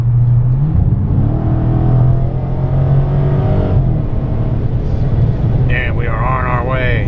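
A 2018 Dodge Challenger 392 Hemi R/T Scat Pack pulls away, its V8 rumbling low and then rising in pitch as it accelerates. Later a voice speaks over the engine noise.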